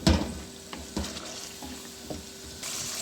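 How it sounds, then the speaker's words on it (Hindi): Mutton cooks in hot oil in a pot with onion and tomato, a steady close sizzle broken by a few soft stirring scrapes and clinks of a spoon against the pot. "मैं इसके अंदर ऑयल डाल रही हूँ और भूनेंगे"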